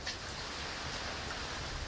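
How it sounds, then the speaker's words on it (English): Steady rain falling outdoors on a wet day, a continuous broadband hiss with no distinct drops or other sounds standing out, moderately loud and unbroken throughout. "really nice, rainy, good weather for painting."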